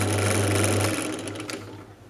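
A drill boring a 5mm hole for an LED in a design and technology electronic touch game project, a steady close whirring motor hum that fades out toward the end.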